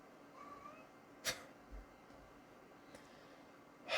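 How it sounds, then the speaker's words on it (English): A house cat acting up indoors in the early morning, giving a few short, faint cries at a distance from the microphone, separated by quiet gaps. "My cat's going nuts behind me."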